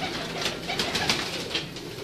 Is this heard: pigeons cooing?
yes